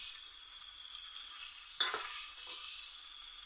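Spice paste being stirred into a frying fish dish with taro: a constant bright oil sizzle, broken by one sharp utensil scrape and a softer second stir.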